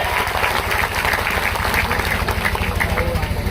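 A loud crowd at a public speech in a village in Jabalpur district, India, applauds continuously, with a steady rhythmic thumping running underneath the clapping.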